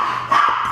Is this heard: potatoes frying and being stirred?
no